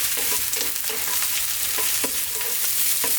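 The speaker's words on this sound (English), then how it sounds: "Beautiful dry fry here" Eggplant dry frying in a pan for a spinach eggplant curry gives a steady sizzle, with a spatula scraping and stirring at a loose, uneven rhythm close by.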